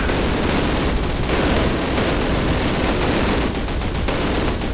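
Dense, continuous gunfire from the video game Call of Duty, with overlapping bursts and rattling shots that stay loud and close without pause.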